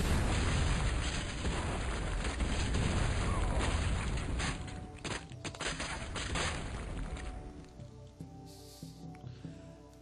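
Cannon fire in the strategy video game Total Annihilation: Kingdoms, a dense barrage of loud booming blasts and crackling impacts that overlap continuously before thinning into scattered fainter bursts toward the end.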